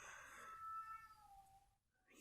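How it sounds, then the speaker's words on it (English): Pet cats meow several times in a row, the calls strong at first and then thinning into a long wavering cry, with a short meow at the end. "my cats are being jerks."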